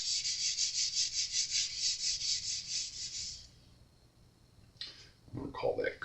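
Rhythmic back-and-forth sanding strokes rub across the wood of a 100-year-old parlor guitar, steady and close for about three seconds, then the rasping stops and a few handling noises and a voice follow.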